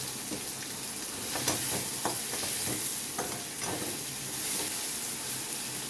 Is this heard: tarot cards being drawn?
no